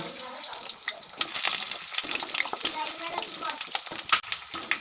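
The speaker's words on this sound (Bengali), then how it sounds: "এবার আমি টুকরো করে রাখা আলুগুলো দিয়ে দেব" Potato pieces drop into hot mustard oil for a vegetarian pumpkin curry, producing a loud, continuous crackling hiss with uneven bursts close by.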